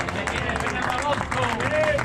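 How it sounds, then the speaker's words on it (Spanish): Crowd applause at an Andalusian trial motorcycle championship prize-giving in Posadas, continuous clapping from many people with chatter and a voice speaking over the top. "un fuerte aplauso para ella"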